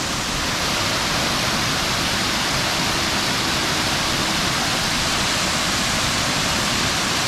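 River water rushing over rocks on a hiking trail at Poço Azul on São Miguel in the Azores, a steady loud broadband roar with no pauses and no voices.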